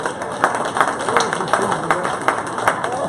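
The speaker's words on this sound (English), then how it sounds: "Give those kids a nice round of applause." Applause for children showing Duroc barrows at a county 4-H fair swine show, a scattered patter of claps in a large barn with crowd murmur and a voice talking underneath.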